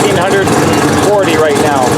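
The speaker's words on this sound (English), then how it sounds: "Idle, which is about 1600 RPM," A 700-horsepower three-rotor rotary engine in a first-generation sleeper build idles at about 1600 RPM through a temporary 3.5-inch stainless exhaust, a steady close rumble that runs without a break, with a voice speaking over it.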